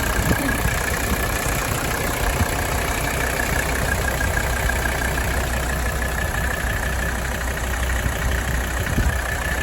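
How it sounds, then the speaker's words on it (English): A Mercedes OM617 diesel engine in a 1985 Mercedes-Benz 300D idles steadily up close, a constant low rumble with a faint rhythmic clatter and no talking. "Let's hear the purr of this beautiful OM617 engine."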